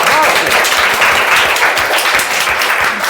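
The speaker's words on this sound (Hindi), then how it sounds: "एक बार ताली बजाओ।" A class of schoolchildren clapping hands together in a classroom, loud, close and continuous applause with quick, slightly uneven claps filling the whole stretch.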